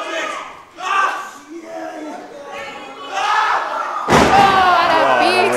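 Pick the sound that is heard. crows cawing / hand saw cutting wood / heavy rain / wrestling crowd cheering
wrestling crowd cheering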